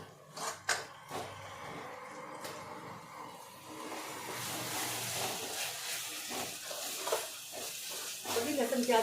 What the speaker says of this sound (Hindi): तो भी लहसुन प्याज हो चुका था, अब टमाटर डाल दिया है।